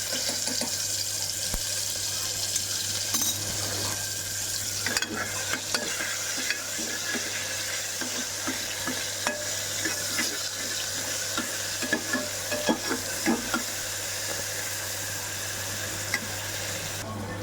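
Ginger and green chili paste frying in hot oil with cumin and asafoetida, giving a steady close sizzle throughout with occasional scraping stirs and small clinks.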